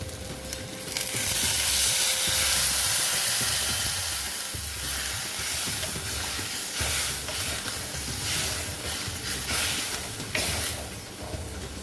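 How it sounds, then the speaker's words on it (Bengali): Water is poured into a rohu fish curry with potato, and the hot pan erupts in a loud, steady sizzle and hiss that holds for several seconds before easing slightly, with no talking. "মোটামুটি কষানো হয়ে গেছে এবার আমি জল দিয়ে দিচ্ছি"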